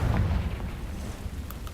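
The Confringo fire spell goes off in Hogwarts Legacy, a heavy low boom at the start that rumbles on and fades over the next second, with faint crackles later.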